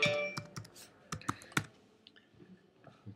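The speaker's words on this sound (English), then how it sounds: "I'll start off by typing my name." Typing on a computer keyboard, a quick irregular run of crisp clicks up close, thinning out into a few lighter taps.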